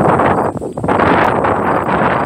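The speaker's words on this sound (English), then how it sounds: "It is windy." Wind blowing across an outdoor microphone, a loud, constant rumble and buffeting that fills the whole clip.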